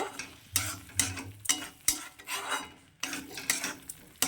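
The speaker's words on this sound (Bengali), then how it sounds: "সবগুলো একসঙ্গে খুব ভালো করে মিশিয়ে নেব" Egg and spinach curry with garam masala being mixed in a pan, a spoon scraping and clinking against the metal in a steady rhythm of repeated strokes, close and clear with no talk.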